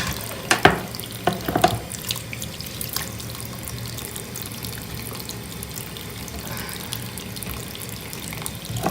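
A crystal, an amethyst, is washed with soap under a running tap, with a steady stream splashing into the sink and a few clattering knocks and handling noises near the start.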